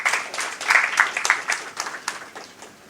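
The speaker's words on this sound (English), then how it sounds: "Clap for yourself." A roomful of people at a judged team competition claps briefly, with distinct individual claps in a short burst that tapers off by the end.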